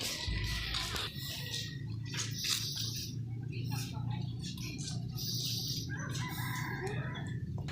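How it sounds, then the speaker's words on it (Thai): Chickens and roosters crowd a Thai temple ground, with repeated loud crowing and clucking from several birds at close and middle distance, overlapping one another while people talk in the background. "ก็มีคนเอาไก่มาถวายเยอะแยะเลยนะครับ"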